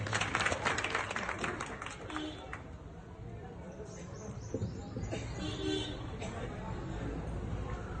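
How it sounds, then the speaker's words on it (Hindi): An audience at a community gathering claps loudly at first, then the applause slowly fades into a scattered patter while people chatter in the background. "एक बार जोरदार तालियां बजाएं"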